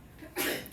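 A single sneeze bursts out at mid-distance in a classroom during a geometry lesson, a short sharp broadband blast following a faint intake, with quiet room tone around it.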